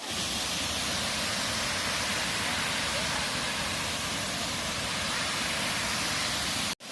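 Steady broadband roar of falling water at Chunchi Falls, a loud, unbroken rushing wash that holds level for several seconds before cutting off abruptly.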